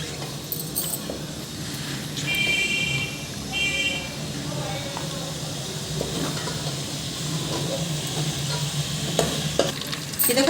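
Chicken sizzles steadily in hot oil in a karahi while a spoon stirs and scrapes through it, with a continuous frying hiss throughout and a voice speaking over the cooking.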